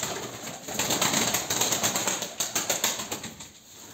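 Pigeons in a loft give low, soft coos while wings flap in quick repeated bursts, the flapping rising into a rhythmic series of close, loud beats before easing off.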